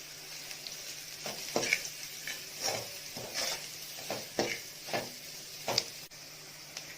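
Turmeric, chilli powder and salt fry in oil for egg puffed rice upma, a soft sizzle under repeated scraping stirs of a spoon against the pan.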